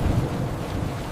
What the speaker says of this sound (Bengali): গভীর রাতে প্রবল বৃষ্টি শুরু হয়। চারপাশ অন্ধকার আর বজ্রপাত হচ্ছে।